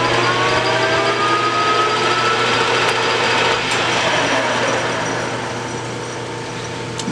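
A metal lathe skims steel railroad track for an anvil, with cutting fluid on the work. It gives a steady, fairly loud machine whine with a faint high tone and grows slightly quieter toward the end.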